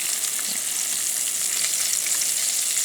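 Steady, close sizzling of food frying in hot oil outdoors on the Sea of Okhotsk shore, Sakhalin, a continuous crackling hiss with no voices.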